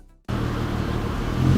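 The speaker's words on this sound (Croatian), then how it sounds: "a zvuk posle straight pipe-a to više nije auto" A VW Golf 4 R32 V6 engine with a straight-pipe exhaust breaks in abruptly after a brief near-silence, then holds a loud, deep, steady rumble that swells slightly toward the end.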